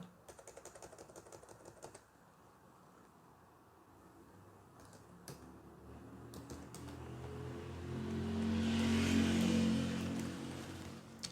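Quick bursts of keyboard typing tap for a couple of seconds, followed by sparse clicks while a low engine-like hum swells in the background.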